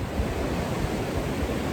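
Water waves wash in a steady, unbroken rush of surf, fairly loud and close, with no talking over it.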